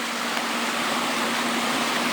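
Warm water runs straight into a river with a constant, dense rushing hiss and a faint low hum underneath, unbroken and close, no speech.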